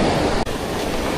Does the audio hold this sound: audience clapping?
no